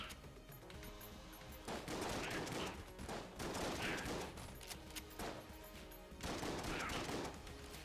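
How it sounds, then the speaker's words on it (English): Rapid bursts of shotgun fire in the Enter the Gungeon video game come in dense, loud volleys with short gaps, the shots crowding together over a busy game backdrop. "the regular shotgun does not typically fire at this rate"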